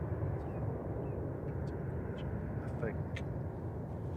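Steady broadband roar of an airplane departing Manchester Airport at night, sustained and fairly distant, with someone talking over it throughout.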